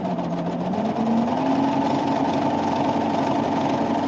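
A Triumph serger sewing a cover stitch hem on fabric runs at a steady, fairly loud mechanical hum that rises slightly in pitch partway through and continues without pause, with no talking.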